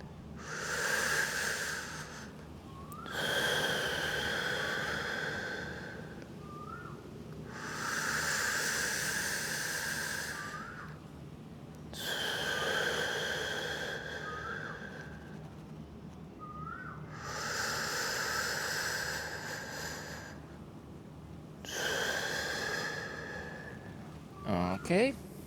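Slow, deep breaths while stretching on a fitness ball, long hissing inhales and exhales in a steady rhythm of about five breath cycles, close and clear, with a brief clatter at the end.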